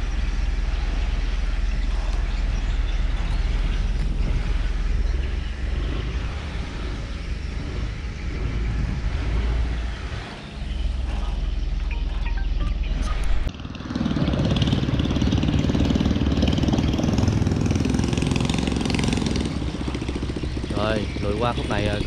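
A boat's engine runs in reverse against the current on a river: a steady, loud low drone throughout, briefly dipping and then shifting to a rougher, heavier tone partway through.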